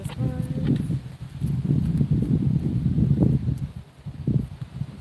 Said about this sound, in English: I love this wind.